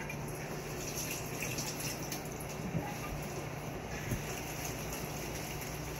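Water runs steadily from a spigot during a cat's bath, a continuous soft splashing rush with a few faint knocks, fairly quiet and close.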